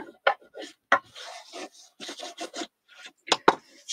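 A handmade teacher-gift craft piece burnished by hand, with short dry rubbing strokes in uneven bursts, close up and fairly loud.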